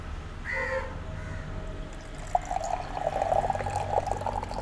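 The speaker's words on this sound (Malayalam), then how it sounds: "അപ്പോൾ ഇനി ഞാൻ ഈ ഗ്ലാസ്സിലേക്ക് പകർത്താൻ പോകണം." Water pours into a glass in a short trickling splash during the second half, while a crow caws faintly in the background beforehand.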